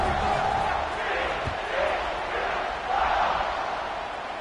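Stadium crowd roaring at an American football kickoff in a video game, a steady broad wash of cheering that swells and dips throughout, with a commentator talking over it.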